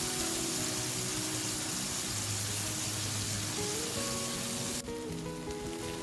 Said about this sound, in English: Fry the sambal until the oil separates from the chili paste.